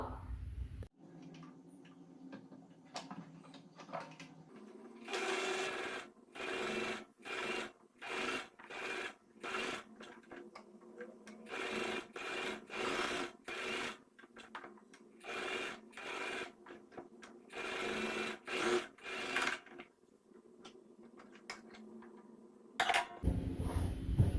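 A sewing machine topstitches a garment made from a saree, running in repeated short close bursts with brief pauses between them, with no talking.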